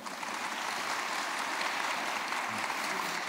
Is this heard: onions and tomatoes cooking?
no